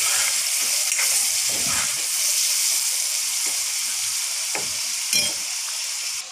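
Chopped tomatoes cook down into a paste in a pan, producing a loud, continuous sizzle and hiss, with intermittent scraping knocks from stirring.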